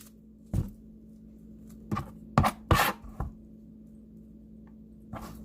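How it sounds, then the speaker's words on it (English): A kitchen knife chops through the ends of an onion on a cutting board as chili verde is prepared, giving a handful of sharp, close knocks spaced irregularly, with a quick double stroke in the middle and one more near the end. "Want to cut off the ends, take off the skin as much as possible"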